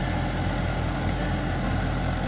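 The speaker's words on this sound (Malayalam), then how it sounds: "45 HP കാറ്റഗറിയിൽപ്പെട്ട ട്രാക്ടറാണിത്." A 45 HP Mahindra Yuvo 575 DI tractor idles in a field at Adoor with a rotavator fitted, giving a steady, close, throbbing low engine drone that stays even throughout with no talk.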